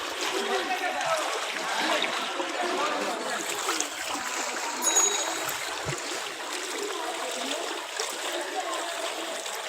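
Water splashes and sloshes continuously along a flooded city street after rain, with a rough, close churning wash and people talking over it.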